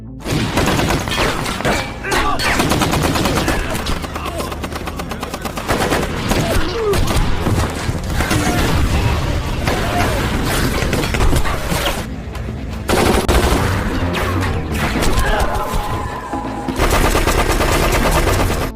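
A fierce firefight from a film scene: loud, dense machine-gun bursts and rapid gunshots with thuds, continuing almost nonstop with a few brief lulls.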